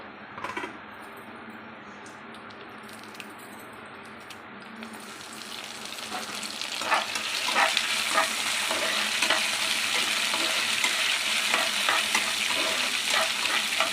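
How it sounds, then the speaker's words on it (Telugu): Curry leaves drop into hot oil in a pan for tomato pachadi and sizzle, the frying swelling louder partway through with steady crackle and occasional stirring clicks, close and alone without talk. "ఇది ఇలా ఫ్రై అవుతున్నప్పుడు దీంట్లో కరివేపాకు వేసుకోవాలండి"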